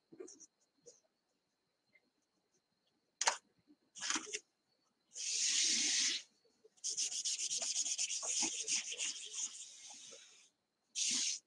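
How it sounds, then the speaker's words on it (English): A Clorox wipe scrubs a Chalk Couture transfer in short bursts of rubbing, then longer runs of rapid back-and-forth strokes, close and fairly quiet with pauses between. "you take a Clorox wipe and you just scrub your transfer"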